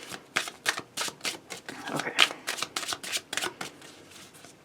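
Tarot cards shuffled by hand in quick riffling bursts, a steady rhythm of crisp flutters close up, with a brief spoken word at one point.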